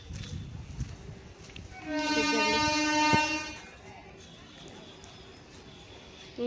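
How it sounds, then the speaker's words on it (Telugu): A train at a railway station sounds a loud, sustained horn for about a second and a half, amid background platform noise and murmuring voices that continue quietly after the horn stops. "అదిగోండి ట్రైన్ చూడండి అలా వెళ్తున్నారు"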